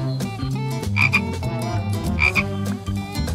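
A frog croaks loudly and close, a run of repeated rattling calls layered over a continuous low background, with no talking.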